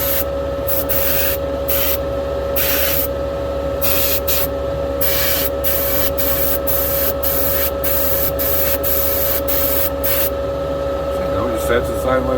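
A spray can lays a wet coat of paint onto a model car part for an Aquarod race team van, hissing in a series of short and longer bursts over a steady background hum.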